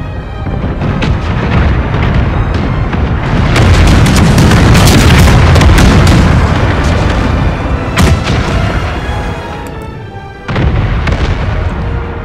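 A ship exploding in the naval battle game Total War: Empire, heard as loud, sustained booming blasts and rumbling cannon-like fire that swell in the middle and keep crackling to the end.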